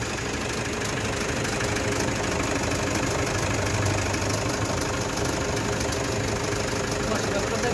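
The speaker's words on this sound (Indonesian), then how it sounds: "Kondisi mesin Hilux guys." A used Toyota Hilux engine from a mining site idling, a loud, steady, close mechanical drone with a rough, knocking texture that runs evenly throughout, while people talk over it.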